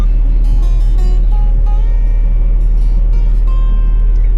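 Vehicle backing up on a forest trail at Flag Pole and Reddish Knob in George Washington National Forest, a steady low engine drone running close and continuous with faint scattered tones above it, no talk.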